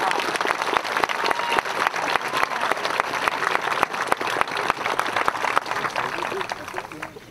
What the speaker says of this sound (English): Will you please join me in another round of applause for our jazz band?